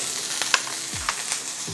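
Onion and garlic sizzle and spit in a hot pan, a steady bright frying hiss with small crackling pops and splatters, close and continuous with no talking.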